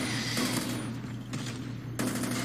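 Rapid gunfire from a pistol in the old Call of Duty game, Rambo-style play, loud and close with bursts of shots and brief pauses in between, accompanied by steady low game background music.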